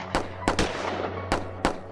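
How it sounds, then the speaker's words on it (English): Pistol shots ring out in a sharp, spaced series of about five or six cracks, fairly loud against a low steady hum, with no talking. "6 shots rang out"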